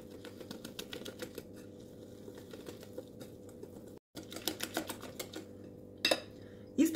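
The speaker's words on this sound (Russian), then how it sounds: "Все хорошенько перемешиваем, чтобы не осталось комочков." Whisking sifted flour into milk for thin lace pancakes, producing rapid, steady clicking strokes against a bowl, fairly faint, with a brief pause and a couple of louder clinks near the end.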